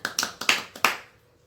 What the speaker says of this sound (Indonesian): Tepuk tangan dulu dong buat Ilham.